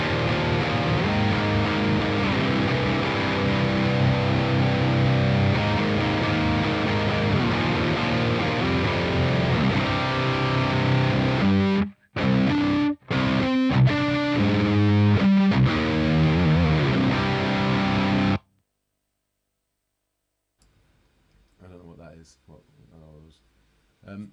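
Heavily distorted electric guitar through the Archetype Rabea amp plugin, dialed in for a nu metal tone: a dense, loud riff with brief stops, then it cuts off abruptly, leaving silence and faint noises.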